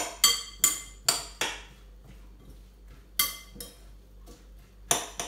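Spoon clinking against a bowl while tossing couscous salad ingredients, several sharp metallic taps spaced irregularly with quieter scraping and rustling between them, close and fairly loud.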